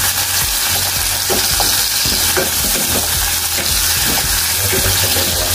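Garlic, onion, turmeric, shallot, ginger and galangal sizzling in a hot pan while being stirred for squid and clam pindang soup, loud continuous frying with a scraping utensil throughout, close up and without talking.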